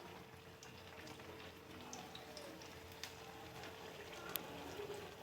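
Eggplant pakoras frying in hot oil, a soft, steady bubbling sizzle with faint scattered pops, quiet and continuous throughout, no talk.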